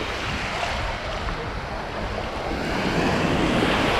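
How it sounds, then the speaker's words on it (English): Ocean surf rolls onto a Florida beach, a loud, steady wash of breaking waves and swirling water with wind noise buffeting the microphone, close up and without voices. "Look how clear this water is when these waves come rolling in here."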